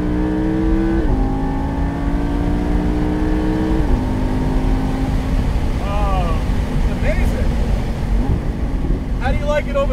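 A Lamborghini Huracan Spyder engine revs hard while accelerating, its pitch stepping up through several gear changes with loud, close exhaust tones, wind rush and brief voices reacting in the background.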